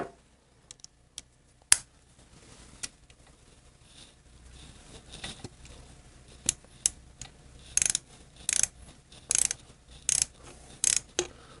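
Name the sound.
ratchet with 12-point socket turning screws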